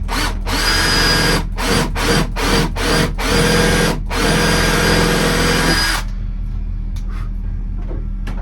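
A cordless drill/driver drives screws into wood during a workbench and shelving build: several short motor bursts, then a long loud run, then it stops and the room falls quiet.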